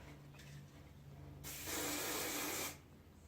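A loud, close hiss of hair spray, one continuous burst lasting just over a second after a quiet moment.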